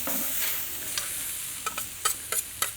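Potatoes fry on a Camp Chef griddle for a breakfast burrito, a steady soft sizzle with several brief sharp scraping or stirring clicks near the end, no talking.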